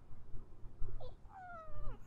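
The cat Dali in American Arcadia gives a short meow, a soft chirp then a drawn-out rising-falling mew, close and quiet over a low background hum.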